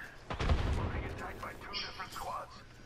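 Gunfire in the video game Apex Legends, a burst of shots with sharp impacts early on, mixed under a player's excited voice and game sounds.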